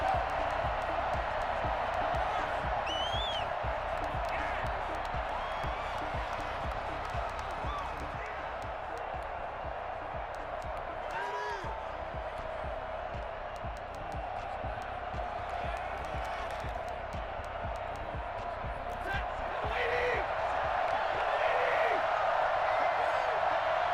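Stadium crowd roaring steadily at an NFL game between the Detroit Lions and the Arizona Cardinals, a dense continuous wall of cheering and noise that swells near the end, with voices in the mix.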